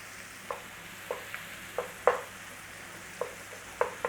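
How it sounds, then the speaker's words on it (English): Milk cooks down and splits in a pan alongside onions, a quiet steady simmering hiss broken by soft, evenly spaced clicks and taps of a stirring utensil against the pan. "put some milk in and try to cook down that milk in there until it"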